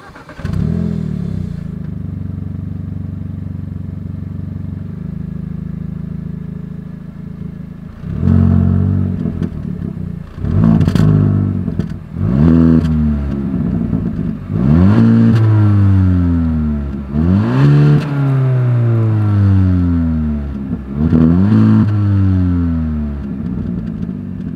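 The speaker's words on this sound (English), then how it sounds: "As always, here is that exhaust clip." A 2021 Hyundai Elantra N-Line engine idles steadily, then its exhaust roars through a series of loud revs, each rising sharply and falling back between blips.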